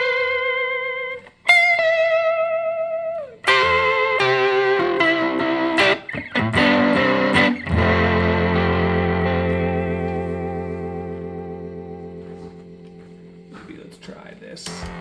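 Electric guitar notes ring out with intense wobbling vibrato and gritty distorted fuzz sustain from pedals, played alone up close with long decaying tails.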